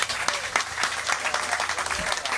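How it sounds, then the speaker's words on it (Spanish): An audience breaks into steady, dense applause, a continuous wash of many hands clapping at moderate loudness throughout. "a Hernando Marín yo le pido en póstumo un aplauso importante"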